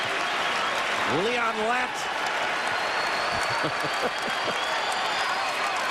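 Basketball arena crowd at a college game between Providence and Pittsburgh applauding and cheering in a loud, sustained wash, with a commentator talking over it throughout.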